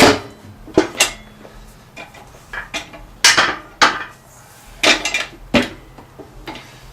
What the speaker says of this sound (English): get whatever your bead breaker is and go for it